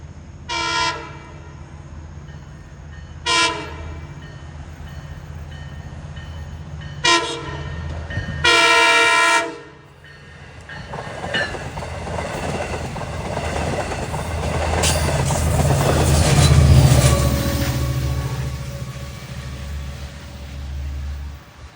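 An LIRR cab car train, number 75 from Patchogue to Babylon on the Montauk Branch, sounds four horn blasts at evening twilight, the last one longest. Its rumbling pass then swells and fades.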